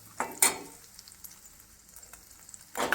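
Raisins and cashews frying in ghee, a soft sizzle with brief bursts of stirring and spoon scrapes at the start and end, close and fairly quiet, no talking.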